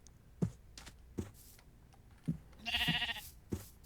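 Minecraft sheep give a short bleat amid a soft tapping of keys and mouse clicks, with a few dull thumps spaced through the quiet.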